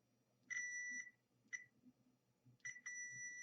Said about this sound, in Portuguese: na hora que eu colocar no outro lado aqui, tem que bipar o multímetro.